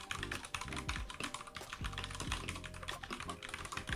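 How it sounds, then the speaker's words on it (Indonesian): Typing on a Noir N1 mechanical keyboard with Gateron Brown switches and looped stabilizers, a steady flurry of close, crisp keystroke clacks with occasional deeper thocks from larger keys, continuous for several seconds. "Ini pakai Noir N1 Gateron Brown."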